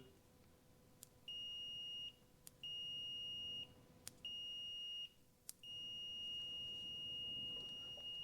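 A multimeter's continuity beeper sounds in four faint, high, steady tones of about a second each, separated by clicks, as it tests the ignition points on a Yamaha HS1 90 twin motorcycle.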